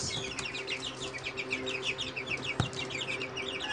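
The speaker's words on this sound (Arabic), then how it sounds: "الفراخ البلدي اهي ان شاء الله حجمهم بقى كويس" Free-range country chickens cluck and chirp steadily throughout, a dense layer of calls from several birds close by, with one brief sharp knock partway through and no voices.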